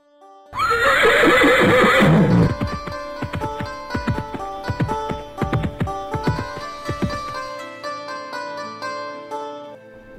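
A horse neighs loudly in a long, shrill whinny near the start, then the sound gives way to a musical backing with rhythmic hoof-like beats.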